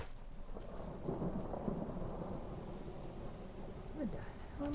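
Steady heavy rain with rolling thunder during a Skyrim thunderstorm, a dense continuous wash of rainfall with low rumbles, while a voice speaks faintly underneath.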